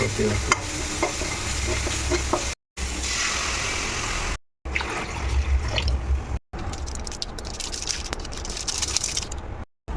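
Steady sizzling of garlic, chilli powder and salt frying in hot oil with occasional stirring scrapes and clinks, interrupted by a few brief gaps.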